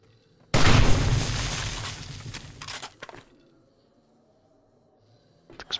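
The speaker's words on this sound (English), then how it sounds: "Explosion's loud" A loud in-game explosion in the survival game 7 Days bursts in suddenly and booms broadly, then decays into a rumbling tail over about two seconds, followed by a few scattered clicks and a faint quiet stretch.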